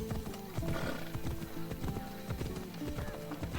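Horse hooves clip-clop at a steady trot in a video game set in ancient Greece, with a brief whinny partway through, close and prominent over a low background score.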